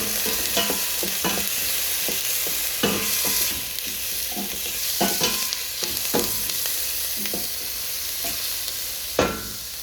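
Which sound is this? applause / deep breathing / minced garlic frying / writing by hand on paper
minced garlic frying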